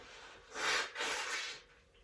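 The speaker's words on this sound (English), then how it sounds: "I am going to blow my nose." A single forceful nose blow, a rough airy burst that pauses briefly and then continues in a second long honk before fading out.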